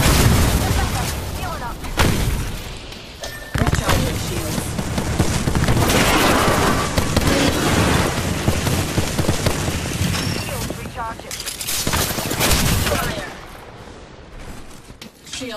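Rapid gunfire bursts and booms in a video game firefight, loud and nearly continuous with brief gaps, while a game voice speaks over the shooting.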